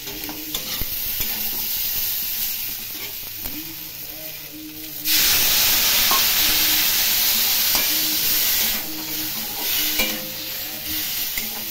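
Cumin and chilli powder sizzle as they are stirred in a pan for rohu fish curry, a hissing fry that surges loudly when a splash of water hits, with spoon scrapes throughout.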